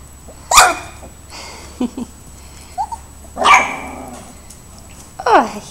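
Alaskan Malamute puppies let out a few sharp yips and small barks, spaced apart, close and fairly loud, with faint whines in between.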